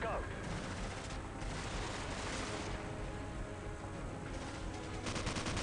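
Rapid gunfire from the Call of Duty 4 video game, dense bursts of automatic fire and explosions running throughout, with players' voices mixed in.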